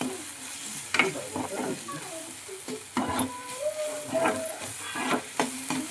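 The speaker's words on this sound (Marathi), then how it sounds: "आता मी परत ह्याला एकजीव करून घेते." Onion-tomato masala with garam masala is stirred in a sizzling pan, with intermittent spoon scrapes and knocks over steady frying and faint background voices.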